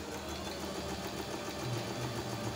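A Singer Apricot 9780/9700 sewing machine runs steadily while stitching fabric with paper laid over it, giving a continuous close motor whir with fine rapid needle chatter and no talking.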